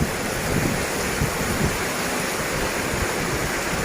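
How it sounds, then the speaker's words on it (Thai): A steady, loud downpour pours at Pak Tho train station in Thailand, an unbroken, close hiss and rush of heavy rain with no voices. "โอ้ฝนฟาดมายันตรงนี้เลยนะครับ"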